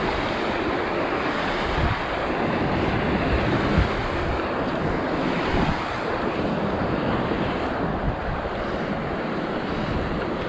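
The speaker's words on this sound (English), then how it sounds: "If I cast that way, the wind's in my face." Wind gusts beside a trout stream, a steady loud roar buffeting the microphone with rushing water underneath and no voices.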